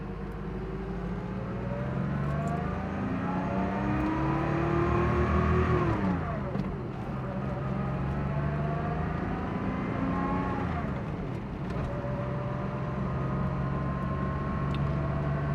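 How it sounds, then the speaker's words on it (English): A 1986 Porsche 911 engine revs and accelerates through rising gear sweeps, dropping and climbing again, heard from inside the cabin at a steady moderate level. "so it's not so loud in here so you can hear the car."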